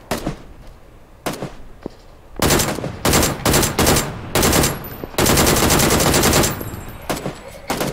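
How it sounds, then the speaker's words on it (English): Gunfire in the battle game PUBG: loud, close bursts of automatic fire, first a few scattered shots, then rapid repeated volleys and one long sustained burst. "Shot him once, shot him twice."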